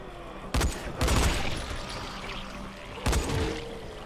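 Gunfire in the zombie video game Dying Light, two separate bursts of loud, rapid shots about two and a half seconds apart, heard without speech.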